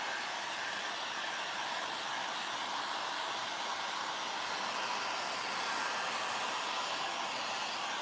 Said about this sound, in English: let me hit this with the dryer and let's get this dry